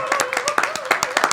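Audience applause at the close of a public reading of the play The Seagull: a short burst of scattered hand claps, fairly close, with a voice speaking over it.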